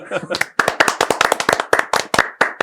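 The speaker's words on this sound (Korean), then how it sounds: "이렇게 박수 치면서 마치고요" A short round of hand clapping from a few people closing a panel discussion, brisk and close, with a voice speaking briefly at the start.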